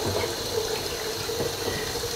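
Hot water streams steadily onto beans cooking in a pot for an aboboi dish, a continuous close pouring rush with no talking.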